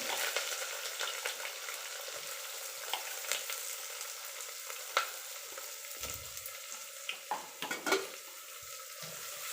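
Thinly sliced onions fry for mutton biryani in a pan over a wood fire, a constant crackling hiss with occasional spatula scrapes and taps, close but fairly quiet.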